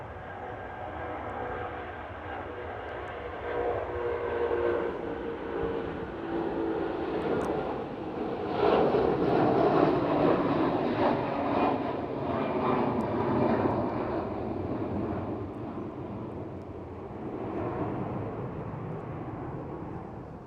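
Jet airliner departing Manchester Airport, a broad roaring engine rumble that swells to a peak midway and then slowly fades, heard from a distance with steady background noise and no talking.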